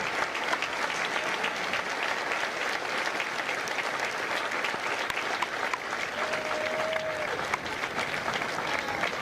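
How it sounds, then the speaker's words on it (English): A large crowd at a Marine recruit graduation ceremony in San Diego applauds veterans with long, steady, dense clapping heard from a distance, with a faint tone briefly audible partway through. "Ladies and gentlemen, a round of applause for their dedicated service to corps and country."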